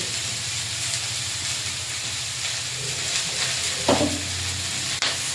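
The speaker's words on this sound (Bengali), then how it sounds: "দিয়ে পরিমাণ মতো লবণ আর হলুদটা দিয়ে ভালো করে ভেজে নেব।" Vegetables with eggplant, salt and turmeric frying in a hot pan at home, a steady close sizzle and hiss with stirring scrapes and a clatter near the end.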